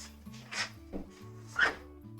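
Several dogs bark outside and carry in through an open window, a few short yelps and barks spread across the moment, faint and distant over a steady low background hum.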